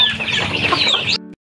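Backyard chickens cluck and squawk up close, a busy run of clucks from several birds that stops abruptly.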